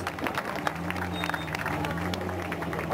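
A crowd at the Africa Race 2009 prize ceremony in Senegal claps steadily for the winning crew, with busy, dense applause and murmuring voices in the background throughout.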